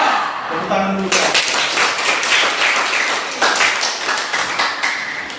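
Schoolchildren in a classroom break into applause after a short spoken prompt, the dense clapping carrying on steadily with some voices underneath.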